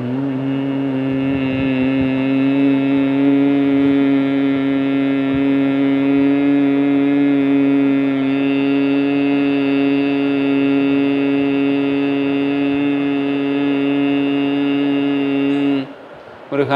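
A person performing bhramari breathing hums steadily with closed lips in imitation of a honeybee's buzz, one loud, even, sustained drone lasting about sixteen seconds before it stops.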